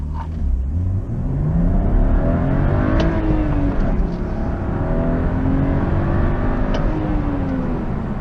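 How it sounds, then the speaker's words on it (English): A BMW 435i drives along with a steady engine drone and road roar heard from inside the car, the engine rising and falling through gear changes and no talk over it. "That's all the video I actually have of me driving the 435i"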